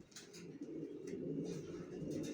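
Racing pigeons of a Johnson long-distance line coo steadily inside a loft, a low, throaty rolling murmur that overlaps continuously with no pauses and no voices.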